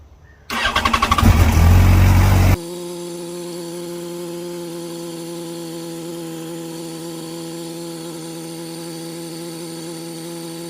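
A motorcycle engine, freshly serviced with an oil and filter change, whirs loudly on its starter for about two seconds, then catches and settles into a steady, even idle that hums on close by with no one talking.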